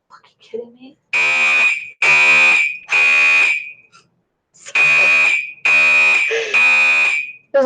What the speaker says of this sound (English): There's a fire alarm going.